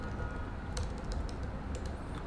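Quick, light keystrokes on a computer keyboard as a MySQL query is typed, a soft, uneven run of clicks close by with no talking.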